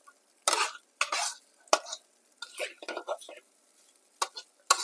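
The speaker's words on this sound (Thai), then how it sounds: "ค่อยๆคั่วให้พริกแกงกับหนูของเราเข้ากันให้ดีเลยนะครับ" Field rat dry-stir-fried with curry paste over low heat in a pan, heard as uneven bursts of scraping and sizzling stirring strokes with short pauses between them.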